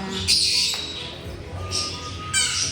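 Birds squawk in loud, harsh bursts close by at a pet station, a few calls repeating over a murmur of background noise.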